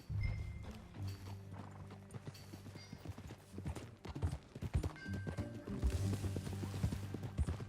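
Horse hooves clip-clop at a steady trotting rhythm in the Red Dead Redemption 2 video game, close and continuous over a low musical score, with a soft whinny; no speech.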